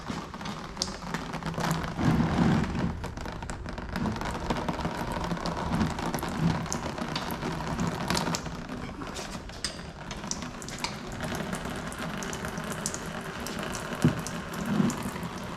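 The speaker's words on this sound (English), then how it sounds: "Look, it's raining transmission fluid." Transmission fluid drains from a Chrysler 300 being worked on, a steady patter and trickle like rain falling into a pan, fairly faint and continuous with occasional louder drips.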